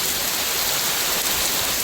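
Heavy rain falls over a village, a dense, steady hiss of drops close by, unbroken and loud with no voices.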